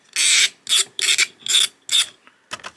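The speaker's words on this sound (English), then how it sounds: "I'm just going to take a file and run it" Hand file rasping along the edge of a metal key blank for an interior door key, five firm strokes in a steady rhythm, then a shorter double stroke, close and loud with no talk.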